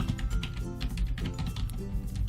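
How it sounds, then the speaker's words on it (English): Rapid, close clicking of fingers typing on a computer keyboard, irregular bursts of keystrokes running continuously without speech. "I can't even see what I'm typing right now"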